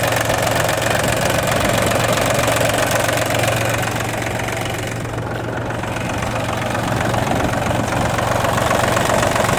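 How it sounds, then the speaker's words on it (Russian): The three-cylinder diesel engine of a blue ISEKI TU200 tractor idling steadily with an even knocking rumble, close and constant, no voices. "Двигатель абсолютно сухой, работает ровно, как и полагается"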